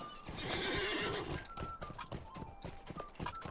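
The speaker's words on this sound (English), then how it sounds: "Let me get on my horse so I can go faster." A mounted horse in the video game Lord of the Rings Online neighs, then gallops off with rapid clip-clopping hoofbeats that continue steadily.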